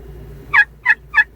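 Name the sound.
wild turkey gobble call from hunting app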